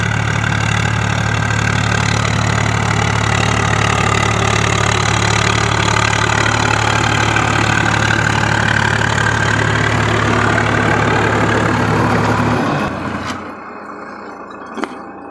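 A tractor engine idles steadily and loudly at close range, a constant low mechanical drone that cuts off abruptly near the end, followed by faint background sounds.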